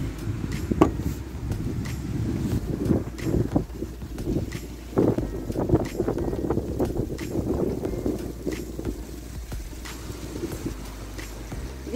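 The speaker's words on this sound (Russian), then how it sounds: "Ветер сегодня сильный" Strong wind buffets the microphone at a children's playground in Ramon, producing uneven low rumbling gusts and thumps throughout, with faint background sounds and no clear speech.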